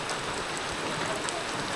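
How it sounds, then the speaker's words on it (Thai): Steady rain falls in a remote forest village in rural Laos, a close, even hiss of drops that runs unbroken throughout. "เฮารอฝนตกถึงเฮาจะออกเดินทางไปต่อได้"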